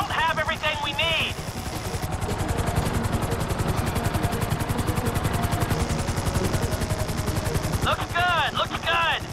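A hovering helicopter in GTA 5 as a steady loud rotor thrum throughout, with rapid chopping pulses and some overlapping game sounds, alone without talk.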